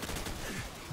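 M16 rifle gunfire in Modern Warfare, a rapid burst of shots in quick succession, loud and close, with no talk over it.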